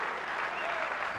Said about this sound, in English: you hear the reaction from the crowd